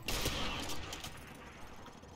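Gunfire in the video game Call of Duty MW1 Remastered: a loud burst of shots at the start, then fading echoing reports and scattered softer shots, with no speech heard.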